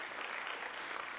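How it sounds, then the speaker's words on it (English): A gathering at an Indigenous Peoples summit applauds to honour Maya women. The clapping is a brief, dense, even patch of many hands with no speech over it. "I ask a round of applause to the Maya women in particular."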